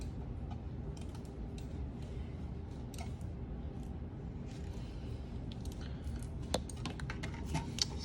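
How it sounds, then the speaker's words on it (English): Plastic packaging around a C-3PO computer mouse crinkles and clicks softly as it is pulled away, with scattered sharp snaps and rustles over a low background hum. "Get this packaging out of the way."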